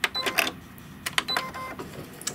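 An embroidery machine stitches a red satin stitch, making rapid mechanical clattering bursts with short pauses, close and moderately loud.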